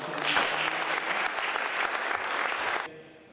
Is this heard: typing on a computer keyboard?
no